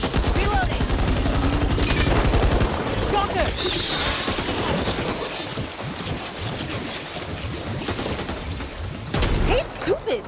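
Heavy gunfire in the zombie shooter game Back 4 Blood crackles in dense, continuous bursts over a loud rumbling bed, easing somewhat midway and swelling again near the end.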